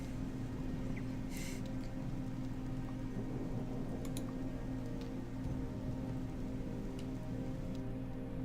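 Rain in the video game Gothic 2 pours as an even, unbroken hiss over a low droning hum, broken only by a few faint ticks and one short burst of brighter noise.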